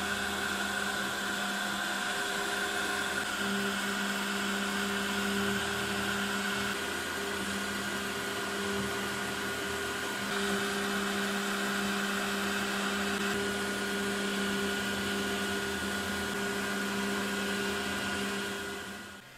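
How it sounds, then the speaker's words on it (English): A Makera Carvera Air CNC end mill cutting pockets gives a steady whine, with the loud roar of a Makera Cyclone dust collector vacuum throughout, a high tonal hum holding constant with small shifts in pitch. "the vacuum switches on automatically and we begin cutting out the pockets."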